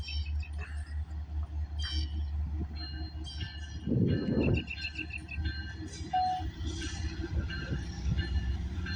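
A CN freight train hauling auto racks rolls past at Sarnia, Ontario, with a steady low rumble, clattering wheels and squealing metal. It is moderately distant and faint, and a voice speaks briefly.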